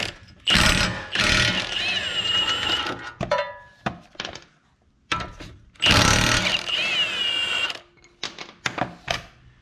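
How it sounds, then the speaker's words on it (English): A 19mm socket tool loosening two bolts on an FJ Cruiser's suspension during a CV axle replacement: bursts of loud mechanical whirring and ratcheting, separated by short clicks and brief pauses, close up. "the next thing you're gonna do is remove these two bolts right here"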